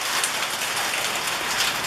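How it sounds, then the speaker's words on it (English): Steady rain falls outside a truck workshop, a dense, even hiss of drops on surfaces, close and continuous without pause. "It's raining, so I'm not going down there"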